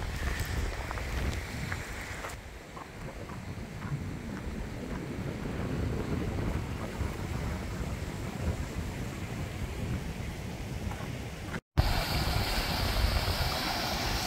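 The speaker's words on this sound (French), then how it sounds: "Le vent qui souffle, mais c'est mieux." Wind blowing through the Trévans gorges: a steady, loud, broadband roar and buffeting rush that fills the whole stretch, briefly cutting out near the end before resuming, with no voices.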